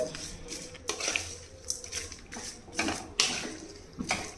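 Spoon clatters and scrapes in a pot while tomato, tamarind and garlic are stirred together, a few irregular knocks and wet shuffling strokes at close range, no talking.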